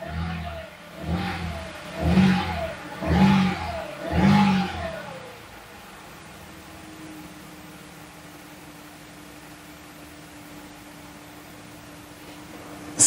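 An Audi S4 3.0 TFSI with 166,000 km, just back from walnut-blasting, revs four times in quick, loud rising surges before settling into a low, steady idle hum.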